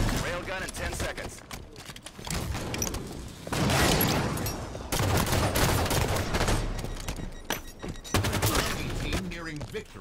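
Repeated bursts of assault rifle fire in a Halo 5 multiplayer match, loud and rattling in clusters of several seconds, with a voice talking over parts of the gunfire.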